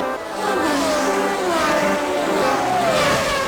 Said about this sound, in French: Berger franchit la ligne d'arrivée en premier